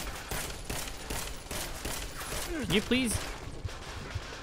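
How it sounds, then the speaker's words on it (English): An automated turret in the video game Deus Ex: Mankind Divided fires rapid, repeated bursts of gunfire in a steady stuttering rhythm. Brief electronic chirps sound near the end, and a voice briefly speaks over the shooting. "Shouldn't activate that dang turret."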